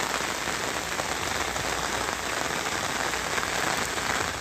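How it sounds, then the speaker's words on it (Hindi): Heavy rain pours over flood-hit Satara, Maharashtra, a dense, steady hiss of drops drumming on water and surfaces, loud and unbroken throughout with no voices. "सिर्फ बारिश की आवाज है"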